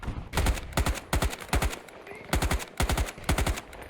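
AK5C rifle in Battlefield 2042 fires short bursts of two to four rapid shots, repeating in quick succession, loud and close with no talk.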